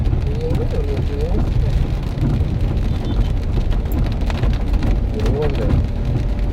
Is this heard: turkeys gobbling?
no